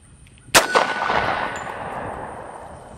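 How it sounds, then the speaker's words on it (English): A Glock 30 pistol fires a single 230 grain .45 ACP round: one sharp, loud report with a ringing metallic clang just after, then a long echoing decay. "Next up, 230 grain, 45 ACP, out of the Glock 30."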